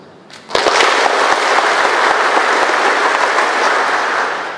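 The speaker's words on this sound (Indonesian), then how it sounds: "Coba sekali lagi kita tepuk tangan untuk kita semua." A large audience at an opening ceremony for civil servant candidate training bursts into loud, dense applause after a brief quiet start, sustained evenly to the end.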